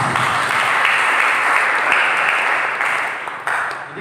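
A church congregation breaks into applause during a sermon, a dense, steady wash of many clapping hands filling the room, holding strong before easing off toward the end.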